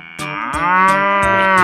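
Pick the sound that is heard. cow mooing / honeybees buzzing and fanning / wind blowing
cow mooing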